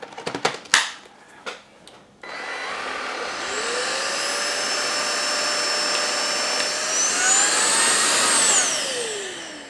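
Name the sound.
vacuum cleaner with rotating brush head on carpet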